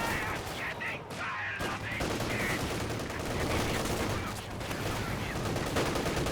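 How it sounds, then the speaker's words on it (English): Gunfire and explosions in Company of Heroes 2, including mortar shots, as a dense, continuous battle din of overlapping blasts and rattling fire. "Oh, double shoots the mortar"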